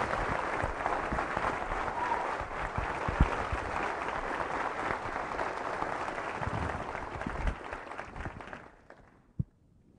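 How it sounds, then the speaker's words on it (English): A Navy all-hands audience in Coronado, San Diego gives a round of applause for the Honorable Ray Mabus: steady, fairly faint clapping from many hands that fades away near the end. "how about a great big Coronado round of applause for the Honorable Ray Mabus"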